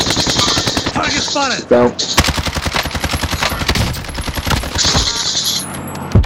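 Sustained automatic gunfire in Call of Duty: Warzone, dense rapid shots rattling almost without pause, layered with a tonal radio-like hum and brief voice callouts from a player.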